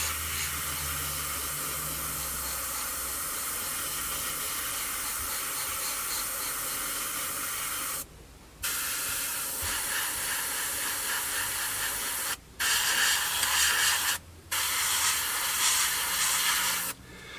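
An airbrush sprays very thin acrylic paint onto an Airfix 1/48 Sabre F4 model, a steady close hiss broken by a few brief pauses as the trigger is released.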